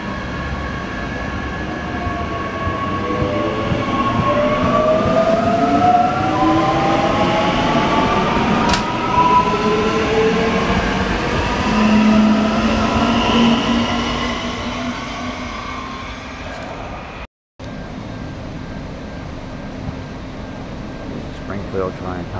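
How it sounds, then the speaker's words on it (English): Suburban train pulling away from Sherwood Station in Brisbane, a loud, close rumble with rising motor whine and rail noise sustained throughout, briefly cutting out near the end. "The train is now departing for the city."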